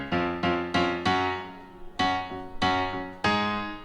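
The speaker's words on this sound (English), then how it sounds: "Now I added a layer of piano playing the same chords as the synth." Piano playing chords in a pop production, a handful of struck chords with ringing decays in an uneven rhythm, heard alone and fairly soft.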